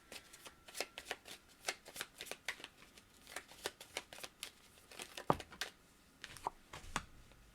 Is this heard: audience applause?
no